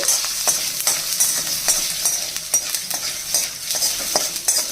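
Oil sizzles steadily in a pan as cumin seeds fry while a spoon stirs and scrapes in regular strokes, close and fairly loud.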